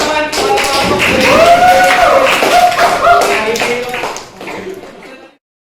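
Students in a high school classroom clap, with scattered taps and claps mixed with voices talking over them, before everything fades out to silence.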